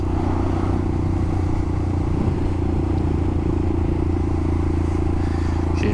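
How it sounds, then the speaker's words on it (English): A Royal Enfield Himalayan motorcycle engine drones steadily and loudly while riding uphill, a constant low rumble with faint rattling, as if labouring under load. "this bike does struggle a little bit to get up hills"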